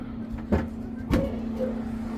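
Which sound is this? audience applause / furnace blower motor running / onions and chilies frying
furnace blower motor running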